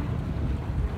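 Strong wind roars and buffets against the microphone near Alice Town, Bahamas, a dense low rumble with no other sounds standing out.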